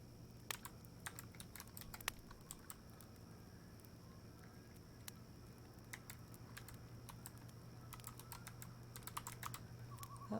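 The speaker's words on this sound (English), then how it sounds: "Move my mic away from my keyboard, else this is going to get really loud." Rapid computer keyboard typing, close and steady, with clustered bursts of keystrokes and brief pauses over a low constant hum, while someone plays the game Turnip Boy Commits Tax Evasion.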